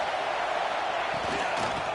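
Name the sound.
stadium crowd cheering in College Football 26 video game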